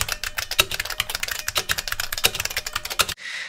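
Fast, steady typing on a brand-new Model F keyboard, dense clacky keystrokes with a bright pingy ring, close and loud, ending abruptly in a short hiss.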